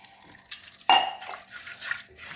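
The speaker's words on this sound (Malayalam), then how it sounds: "കുറച്ച് വെള്ളം ഒഴിക്കാം" A short splash of water poured into a pan, with faint kitchen clatter before and after.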